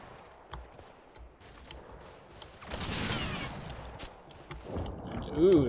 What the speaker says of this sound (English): that sounds like actual gunfire